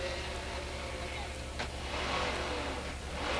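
A GT race car in the Bahrain GT Festival 2004 pit lane starts up and pulls away, its engine a steady loud drone with a brief rise, under crowd and track ambience with commentary voices.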